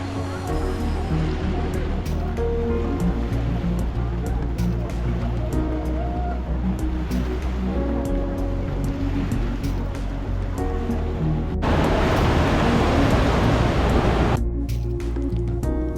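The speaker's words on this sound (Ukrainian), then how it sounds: "Це такі місця, де робиться така хвиля імпровізована." Artificial waves churn and splash in a thermal spa wave pool, a steady, loud wash of water with a brief surge of heavier rushing near the end.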